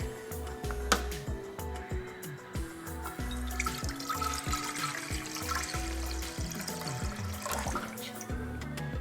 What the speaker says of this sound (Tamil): இதில் வந்து 2 கப்ஸ் வாட்டர் ஊற்றிக்கணும்